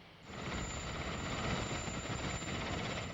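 A lightweight Alouette helicopter flies in Indonesia, its engine and rotor producing a loud, dense, continuous roar with a high whine on top, steady and close throughout.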